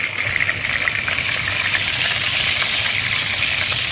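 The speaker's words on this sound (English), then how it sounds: "Good thing about frying in oil, you don't have grill lines to worry about." Ginger beef fries in hot oil with a steady loud sizzle and crackle, close up, continuous, with no talk over it.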